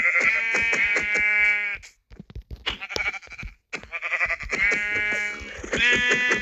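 Sheep in a video game bleat repeatedly, with strong wavering harmonic cries at the start, in the middle and at the end, separated by short gaps of quieter clicks and movement, with no talk.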